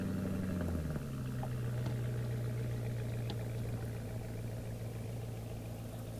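A Porsche Carrera GTS engine idling nearby after a short drop in revs at the start, then a steady low hum with a faint rhythmic mechanical texture, no talking.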